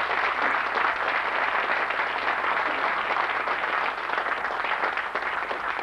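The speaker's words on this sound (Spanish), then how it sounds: "si quiero permitirme pedir un fuerte aplauso" Audience at a book presentation about Carlos Gardel applauding, a dense, continuous wash of clapping hands that holds steady throughout without any voices over it.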